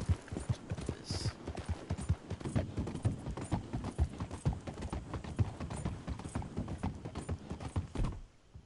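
Horse hooves clip-clopping in the video game Red Dead Redemption 2, a steady run of close, loud hoof strikes continuing through most of the stretch before stopping near the end.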